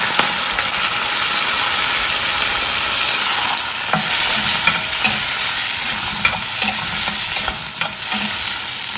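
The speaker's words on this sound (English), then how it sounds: "And then let's throw in our peas." Peas hit hot oil with cumin seeds and sizzle loudly, a dense, steady frying hiss with faint stirring knocks underneath, no voices.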